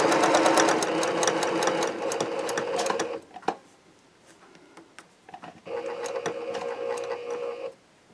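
A sewing machine stitches quilt diamonds in two close, rapid bursts of mechanical clatter, separated by a quiet pause with small handling clicks, each burst running a few seconds before stopping.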